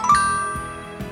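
Phone notification chime: a bright tinkling ding that rings out and decays, followed by two softer repeated tones, clear and close with no talk.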